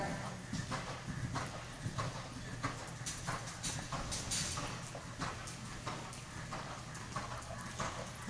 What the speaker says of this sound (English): She's got such a good canter